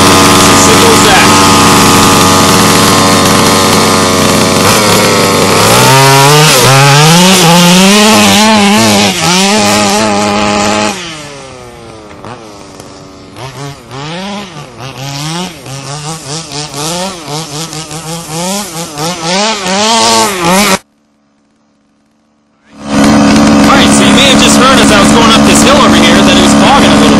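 An HPI Baja 5b gas RC car engine runs loudly, idling at first, then revving up and down in repeated throttle blips, cutting out briefly before roaring again at high speed.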